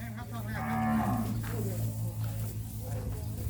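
Water buffalo, a long-haired Thai breed, lowing at a livestock sale: a sustained low moo carries through the clip over steady background noise, with voices mixed in.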